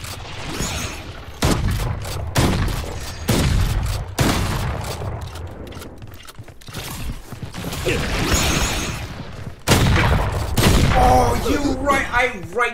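Bursts of long-range gunfire in the Valorant shooter game ring out repeatedly across the round, loud sharp volleys mixed with mechanical weapon sounds and in-game effects, with players talking over parts of it.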